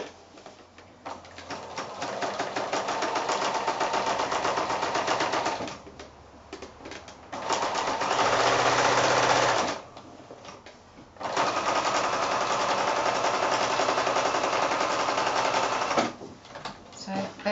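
A sewing machine stitching quilt-as-you-go blocks with blue thread, running in long steady bursts of rapid close whirring separated by short pauses.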